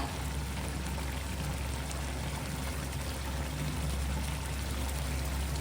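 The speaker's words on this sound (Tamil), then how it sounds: "மிளகாய் தண்ணி இருக்குங்களா, அது சேர்த்துக்கோங்க." A steady, continuous pour of chilli water into a pan of chicken gravy, an even rushing splash that holds unchanged throughout with no talking.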